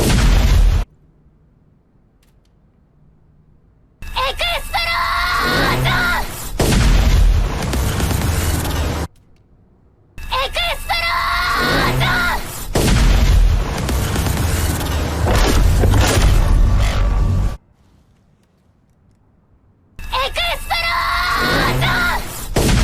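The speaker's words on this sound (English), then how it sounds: "because it has some of the explosion sounds in it at the end" Explosion sound effects in a game audio mix, loud bursts of booms with screams and yells, separated by stretches of near silence.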